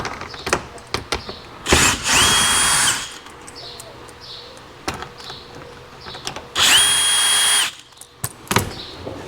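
A power drill whirs in two loud bursts, each lasting about a second, while it backs screws out of the front air dam on a new Toyota Tacoma. Quieter clicks and handling noises fill the gaps between the bursts.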